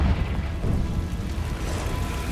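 A Confringo blasting spell explodes in the video game Hogwarts Legacy, a dense, continuous low rumble of blast energy that stays loud and steady for the whole stretch with no talking.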